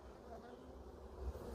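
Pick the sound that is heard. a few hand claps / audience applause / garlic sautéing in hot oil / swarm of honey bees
swarm of honey bees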